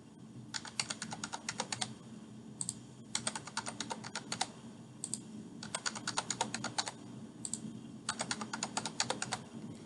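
Passwords being typed on a computer keyboard during an Oracle server and client install, heard as quick bursts of crisp key clicks broken by short pauses, close and fairly quiet.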